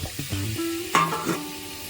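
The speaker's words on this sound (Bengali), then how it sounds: "এবারে আমি এই সমস্ত কুচনো পেঁয়াজ টমেটো আদা রসুন সব একসাথে আমি একটু ফ্রাই করে নেব" Chopped onion, tomato, ginger and garlic hit a hot pan for Murg Makhani, giving a brief close sizzle with a few stirring scrapes.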